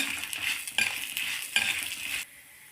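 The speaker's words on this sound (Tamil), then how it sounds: "இப்போ இது கூட ஒரு ஏழு வரமிளகா அதையும் இது கூடயே வறுத்துக்கலாம்" Dried red chillies and peanuts are stirred as they dry-roast in a pan, making a brief, busy scraping and rattling sizzle that cuts off abruptly after about two seconds.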